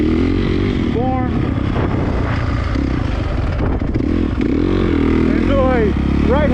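Dirt bike ridden around a track through left and right turns and a berm, engine steady and loud throughout with pitch rising and falling as it revs, a voice talking over it.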